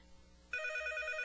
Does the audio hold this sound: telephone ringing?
yes